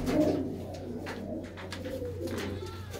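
Pet pigeons kept by a fancier coo steadily and close, a continuous low rolling murmur of several birds with faint background noise.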